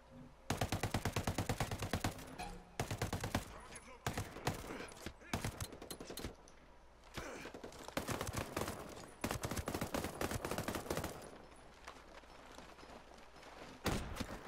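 An unsuppressed MK17 assault rifle in the shooter game Ghost Recon Breakpoint fires in loud, rapid bursts and rattling strings of shots, separated by short pauses, with a faint voice under the gunfire.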